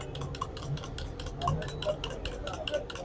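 Malpura batter mixed with egg in a bowl, a rapid regular series of whisking taps and clicks of utensil against the vessel, fairly close, with faint background voices and street ambience.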